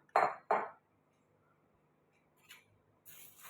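Roasted sago, poha, whole coriander and cumin are tipped into a metal cooking vessel for chakli flour, giving two quick close clattering pours followed by fainter scrapes and a clink.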